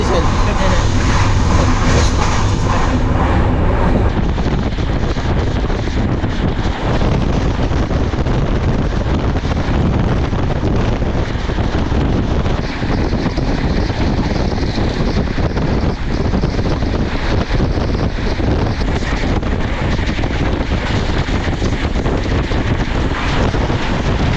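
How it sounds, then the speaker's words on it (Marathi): A fast-moving express passenger train roars steadily with loud rushing wind and rumble, heard from inside, a continuous dense clatter throughout. "गाडी आता बघा किती स्पीडने चाललं आहे"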